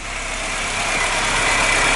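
A warmed-up VW Golf Mk2 1.8 with a Pierburg carburettor idles at fast idle, a steady, fairly loud engine hum with constant vibration and no talk.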